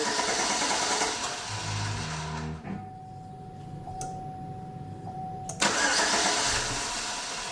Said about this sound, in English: it looks like without that fuel pump relay, it won't start at all